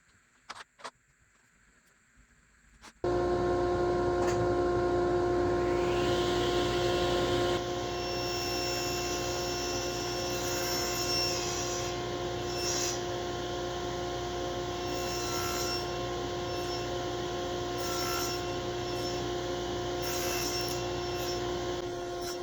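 A table saw cutting a half lap joint in wood with a MicroJig Fit Finder: a few light clicks, then the blade spins up into a loud, steady whine that holds for many seconds, with brief changes in tone as the wood passes back and forth.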